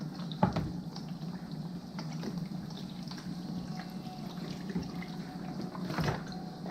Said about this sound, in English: What I do is I pour the chicken stock